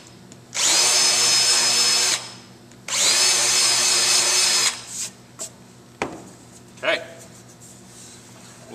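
A power drill bores screw holes into a solid wood longboard deck in two sustained whining bursts, followed by lighter handling knocks and a brief spoken word.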